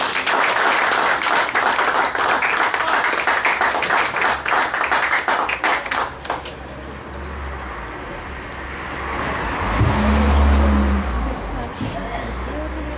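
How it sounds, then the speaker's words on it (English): Audience at a community youth event applauds after a speech: loud, dense clapping for about six seconds, then it fades into low room noise with a deep rumble. "A round of applause for him."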